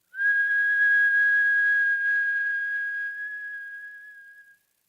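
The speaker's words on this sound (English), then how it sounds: "Whistling in through the mouth and exhaling through the nose." A single steady whistle made by breathing in through the mouth, held for about four seconds at a constant pitch before tapering and fading out, loud and close with no other sound.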